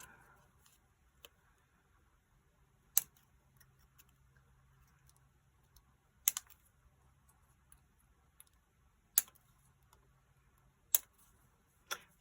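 Scissors snipping small strands off die-cut paper daisies, giving soft, sharp snips spaced a few seconds apart in an otherwise very quiet room.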